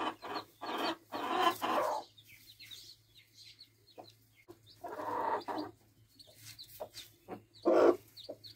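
Hens with newborn chicks cluck and murmur close by in short soft bursts, a few louder calls rising over a low steady hum in the background.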